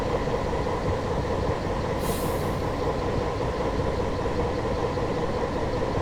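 A train at a busy station in Train Simulator 2020, a steady, loud rumbling rail roar with a humming engine tone and a brief hiss around midway.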